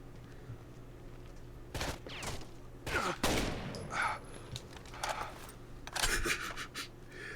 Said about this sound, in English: Trying to create a guide here and I keep getting shot at.